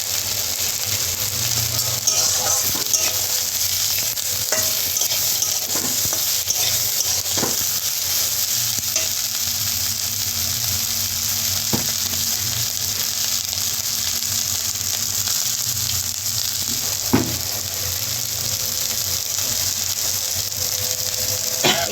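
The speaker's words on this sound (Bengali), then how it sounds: "কাঁচা ক্যাংড়াগুলোকে দিয়ে দিয়ে ভালো করে ভাজা করে নিতে হবে" Continuous hiss of raw crabs and onion frying in a pan with scattered scraping and clacking of a spatula stirring, steady and close throughout.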